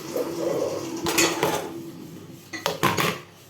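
Metal utensils clatter and scrape against a pot of pepper rasam stirred with a ladle in a few quick bursts, a close kitchen stirring sound with pauses between.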